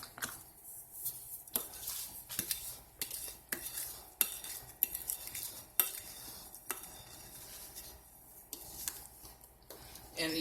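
A spoon stirring sweet potato pie batter in a bowl, giving repeated scraping clinks and knocks against the dish with soft wet churning between strokes, close and alone.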